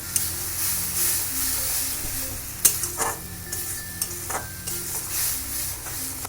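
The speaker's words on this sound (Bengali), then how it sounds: "রসুন বাটা, আদা বাটা, এগুলো দিয়ে আমি এটাকে ভালো করে কষিয়ে নেব।" Onion frying with garlic and ginger paste for a prawn malai curry, a steady moderate sizzle with stirring scrapes and a few utensil knocks, no talking.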